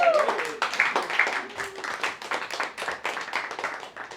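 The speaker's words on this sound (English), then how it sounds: "And round of applause for Grace, everyone." A small audience at a living-room magic show gives a round of applause for a volunteer, a short burst of hand claps that tapers into scattered, uneven clapping.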